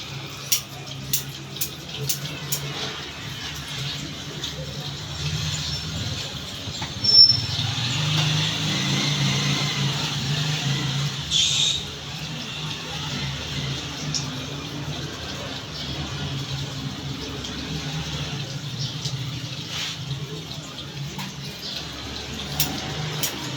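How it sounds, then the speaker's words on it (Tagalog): Water runs steadily from a tap into an already full container and spills over, a continuous soft rush with occasional drips, fairly quiet throughout. "puno na yung gripo, hindi pa nililipat sa timba. Sayang ang tubig."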